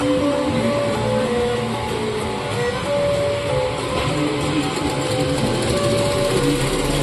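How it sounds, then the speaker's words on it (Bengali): A sewing machine runs steadily while stitching lace onto a saree, a continuous mid-level mechanical whir with no talking. "শাড়িতে লেস লাগাচ্ছি।"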